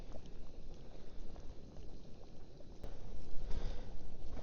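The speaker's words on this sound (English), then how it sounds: "That is bubbling away nicely." Food bubbling away in a pot cooking outdoors on a tor at night, a close, continuous churning boil that swells slightly louder toward the end.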